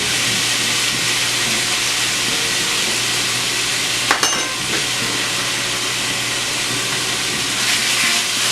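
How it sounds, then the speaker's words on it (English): Beef chili meat browning in olive oil in a pan, a steady loud sizzle running throughout with a brief clatter of stirring near the middle, no talking. "You want to stir it around in here because, again, you don't want it to burn."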